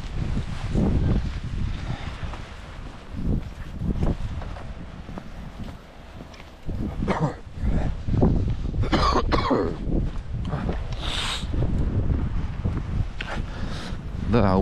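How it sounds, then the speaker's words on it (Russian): Wind gusts buffet the microphone on a winter beach at Kamenka in Yeysk, a loud rumbling roar that rises and falls, with coughs and a few short voice sounds breaking through. "Да, убрать бы этот ветер,"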